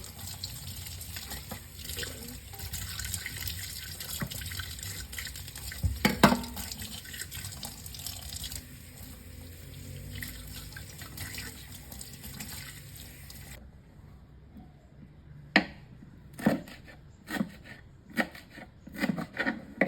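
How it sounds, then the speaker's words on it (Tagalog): Spring onions rinsed under a running kitchen tap, a steady close hiss of water with splashes for about fourteen seconds, then the flow stops, leaving scattered drips and handling knocks. "ugasan muna natin yung ating spring onion"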